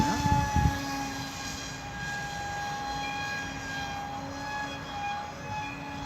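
Model aircraft engine at full throttle, a steady high-pitched buzzing whine with strong harmonic tones, sustained and fairly loud after a brief bump at the start.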